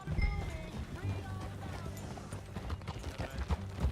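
Horse hooves clip-clop at a steady walking rhythm in the Red Dead Redemption 2 video game, mixed with game ambience and faint background voices throughout.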